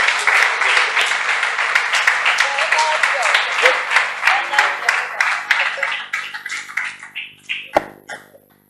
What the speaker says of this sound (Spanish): ¿Me dais un aplauso?